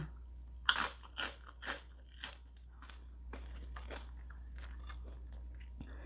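Spicy flavored pork rinds crunched while eating, several loud, close, crisp bites and crackling chews in quick succession, fading into quieter chewing, no talking.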